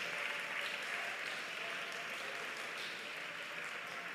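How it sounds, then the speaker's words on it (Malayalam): A worship congregation claps hands together with vigor, a dense, steady wash of many overlapping claps filling the room without pause and with no voices. "ഒന്ന് കൈയടിച്ച് ശക്തിയോടെ ദൈവത്തെ ആരാധിച്ചേ."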